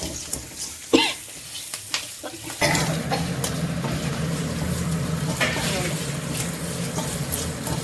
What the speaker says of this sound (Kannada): ಅದಕ್ಕೆ ಫುಲ್ ಕ್ಲೀನಾಗಿ ಫ್ರೈ ಮಾಡ್ಕೋಬೇಕು.